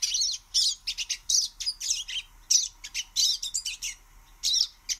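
A small, gregarious pine siskin, a yellow finch with a needle-like bill, gives a rapid series of high, buzzy, twittering calls in short bursts, close and clear against silence.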